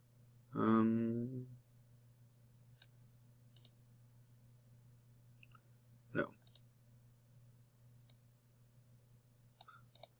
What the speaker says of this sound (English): I'm going to click on this button or file open